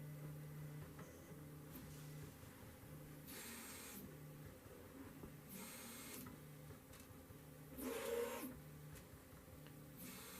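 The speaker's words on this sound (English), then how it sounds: "Printer is going through a leveling process, and then it will begin printing." A 3D printer running its bed-leveling routine gives a quiet, steady hum with stepping motor tones. Several short bursts of hissing movement noise come and go, and one louder stretch appears near the end.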